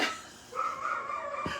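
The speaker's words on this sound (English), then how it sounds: "This is what my dogs do when there's a siren." Next-door dogs react to a passing siren with a short, fairly loud burst of barking that rises into a drawn-out, wavering howl, with no talking over it.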